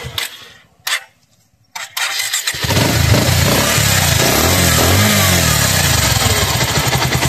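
A 2023 Pulsar motorcycle with about 7,294 km on it starts after a few sputtering cranks, then settles into a loud, steady close-up engine run.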